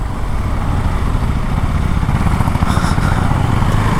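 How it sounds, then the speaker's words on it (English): A Husqvarna Svartpilen 401 motorcycle roars at high revs, a dense, raspy exhaust note sounding close and loud without a break, heard from the rider's position. "when the RPMs just kick in, the exhaust note completely changes, giving that kind of a roaring exhaust"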